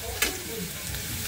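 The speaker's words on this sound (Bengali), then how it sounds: "আর পেঁয়াজ দিয়েছি, পেঁয়াজ দিয়ে ভেজে নেব।" Onions frying in oil with dried red chillies for a chicken kosha, a steady close sizzle with one brief stir or clatter near the start, no voices.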